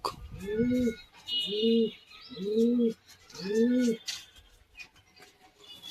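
Racing pigeons coo close by in four repeated, rounded phrases of about a second each, evenly spaced, with a little handling noise between them and no talk.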